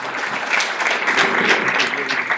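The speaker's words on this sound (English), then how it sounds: "Let's go for that round of applause as we invite the next." Applause at a 2014 international HIV research conference, a full audience clapping steadily and fairly loudly from many hands, sustained throughout with no break.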